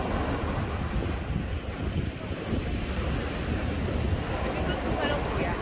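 Steady roar of ocean surf on Siargao island mixed with gusty wind buffeting the microphone, loud and continuous with no clear breaks.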